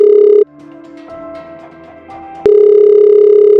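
A telephone in the Sakura School Simulator game sounds a loud, steady electronic tone that cuts off, leaves a short gap with faint background noise, then returns abruptly at full strength.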